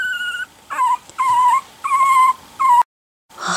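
A three-week-old puppy gives a series of thin, high whimpers and whines in short repeated bursts, close up, with a brief silence near the end before another cry begins.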